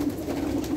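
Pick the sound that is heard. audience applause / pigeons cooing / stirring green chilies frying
pigeons cooing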